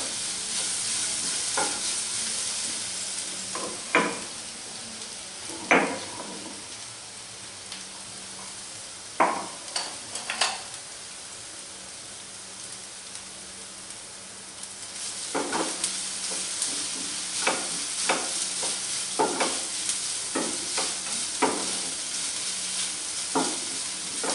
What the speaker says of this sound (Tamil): இஞ்சி பூண்டு பேஸ்டோட பச்சை வாசனை நல்லா போய் நல்லா வதக்கிடலாம்